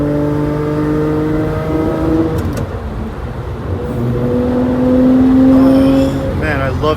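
A Lamborghini Murciélago LP640 engine, the last of the Murciélago line, revs and pulls hard while driving, its loud, steady drone rising and falling through gear changes, heard from inside the cabin with a voice talking over it.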